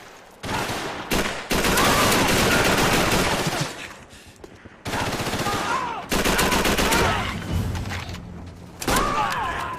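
Call of Duty 3 combat: loud, dense bursts of automatic gunfire and heavy thumping grenade blasts, nearly continuous with brief gaps, close and overwhelming.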